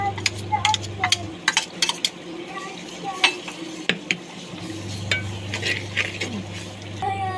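Chilli, ginger and garlic being stirred in a pot of softened tomatoes and spices, with a spoon clinking and scraping against the metal in irregular taps over a soft frying sizzle and a low background hum.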